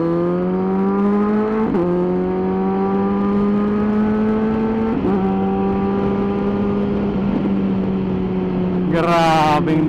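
A Kawasaki Versys 1000 SE motorcycle engine held at a loud, steady high rev close by, with brief dips where the pitch drops and recovers, and a sharp blip near the end.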